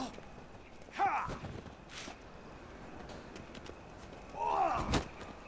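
Horse hooves in The Witcher 3 clopping quietly during a fight, with two louder bursts of horse movement and snorting over soft steady background noise.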